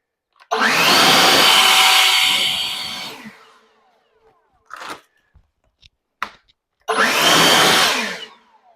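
A battery-powered leaf blower runs on its turbo setting in a yard, giving a loud, close, steady rushing roar for about three seconds that then dies away, followed by a few short bumps and a second loud burst.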